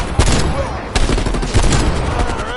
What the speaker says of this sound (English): Control burst, Lazar. We're low on ammo